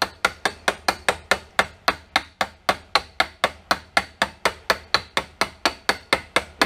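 Hammer tapping a loose slip-fit bearing into place on a sprayer, about two dozen light, evenly spaced metallic knocks in a steady rhythm, close and alone.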